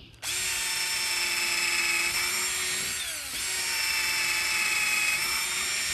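Black & Decker 20V lithium cordless drill boring with a 7/32 bit, a loud steady high motor whine running close and alone, dipping briefly in pitch midway as the bit bites before recovering.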